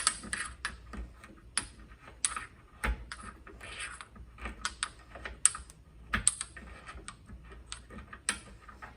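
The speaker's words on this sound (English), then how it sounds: "I can take my pestle and initially I start by breaking it and then I can grind it" Mortar and pestle breaking chalk into lumps and then grinding it toward a fine powder, heard as irregular sharp cracks, taps and scraping clicks close up, with no talking.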